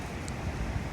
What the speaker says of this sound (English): right now the winds are just really vicious out here